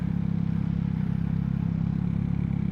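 A large motorcycle idling and running steadily in sports mode during a test ride, a loud, close, low throbbing engine with a rapid even pulse and no talking.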